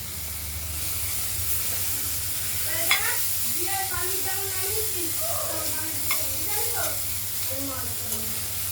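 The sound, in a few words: pumpkin and bitter gourd frying and being stirred in oil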